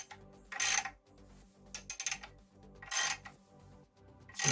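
A ratchet tightens bolts on an MGB GT engine in several separate bursts of rapid clicking, close and fairly loud, with quiet pauses between each run of turns.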